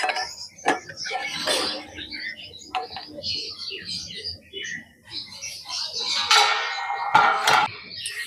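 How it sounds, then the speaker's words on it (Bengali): A metal cake tin holding a steamed semolina and vegetable cake has its lid pried open and is lifted out, giving scattered clinks, scrapes and knocks of metal with a voice talking alongside. "এবার ঢাকাটাকে খুলে দিচ্ছি। এবার কৌটোটাকে তুলে নেব।"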